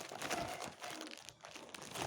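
A plastic package is crinkled and torn open close up, with quiet, irregular rustling and crackling.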